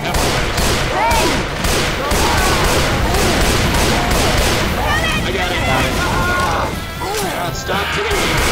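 Rapid gunfire and crashing combat effects from the zombie shooter Left 4 Dead 2, Dark Carnival campaign, sound dense and continuous throughout, with excited voices shouting over the barrage.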